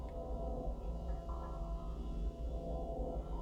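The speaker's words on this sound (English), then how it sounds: "Now the sound you hear remaining is the drone." A low, steady electronic drone hums continuously with a dark, dense texture and faint shifting overtones above it, no other sounds breaking through.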